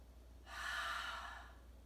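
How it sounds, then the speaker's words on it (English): A single deep breath let out through the mouth during a beginner's yoga grounding practice, a soft airy exhale rising over about a second and then fading, close and alone with no talk. "One deep breath in. Exhale through the mouth."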